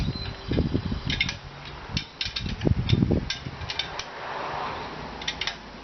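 A ratchet snugs up the nuts on a budget bike rack, giving bursts of close, clicking pawl strokes with brief pauses between them and a softer mechanical rustle near the end.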